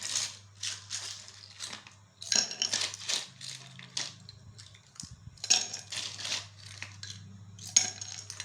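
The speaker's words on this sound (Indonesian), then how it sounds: "Pertama, masukkan es batu secukupnya ke dalam gelas." Ice cubes clink and rattle into a glass for an Indonesian es dawet drink, a busy series of sharp hard knocks and clatters over a low steady hum, with no talking.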